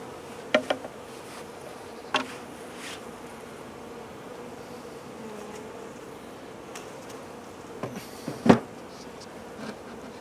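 Steady low buzzing of many honeybees at an apiary in January hums throughout, with a few sharp knocks and taps sounding nearby.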